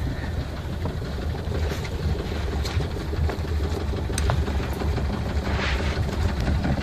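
Moored boats with their motors running, a steady low rumbling drone of idling engines with a continuous even throb and no pauses, heard up close without talking.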